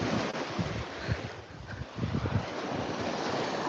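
Ocean waves and surf wash in steadily at a beach with seagrass, broad and rushing with gusts of wind buffeting the microphone, no voices.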